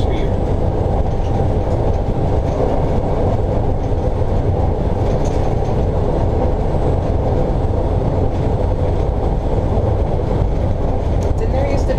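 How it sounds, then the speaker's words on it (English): Riding aboard a Disneyland monorail train, with a loud, steady rumble and rolling drone of the moving car throughout and people talking faintly inside the cabin. "Disneyland monorails."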